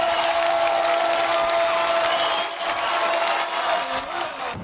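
A football stadium crowd of Southeastern Louisiana Lions fans roars steadily after a touchdown, a loud, dense wash of cheering that holds for several seconds and eases slightly near the end.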